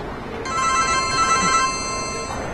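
A telephone rings indoors in a Chinese drama scene, one sustained electronic trill with stacked bright tones lasting about two seconds over a faint room hiss, heard alone without speech.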